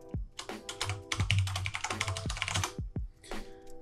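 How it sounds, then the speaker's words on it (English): Quick typing on a computer keyboard at a desk, a close run of crisp key clicks in short bursts with brief pauses, ending in a few isolated taps. "We're going to create a new tab and type in animated GIF"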